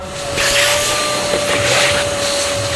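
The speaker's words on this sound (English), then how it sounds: "After giving it a quick vacuum, quick clean down" A vacuum cleaner runs steadily while cleaning a van floor, a loud continuous hissing whine with a steady tonal hum, nearby, rising slightly as the nozzle moves, with no talk.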